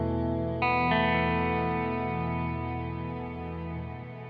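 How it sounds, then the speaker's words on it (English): A Space Force or BigSky reverb pedal at its largest setting lets a played guitar chord ring out in a long, smooth reverb tail that sustains and slowly fades across several seconds, heard alone. "Which is a pretty long tail on that reverb."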